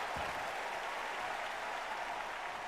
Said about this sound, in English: the crowd is more of like a clap and applause versus a chant and cheer